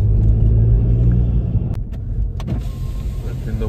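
A VW Golf R MK7 with the EA888 turbo engine and a RAMAIR induction kit accelerates with a deep, loud rumble. A brief whooshing rush follows, with a couple of sharp clicks near the end.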